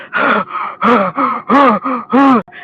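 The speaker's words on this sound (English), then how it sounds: "I accidentally recorded them walking along beside me, and they was breathing like that" Heavy, loud breathing recorded while walking, a run of rhythmic rasping inhale and exhale gasps close to the mic, steady and strained, with no talking.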